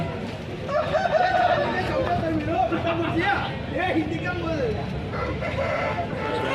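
Roosters crow repeatedly among the bustle of a country chicken market in Anantapur, with several drawn-out calls rising above constant nearby talk and crowd noise.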